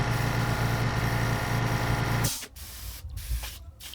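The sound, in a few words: airbrush spraying paint onto a fishing lure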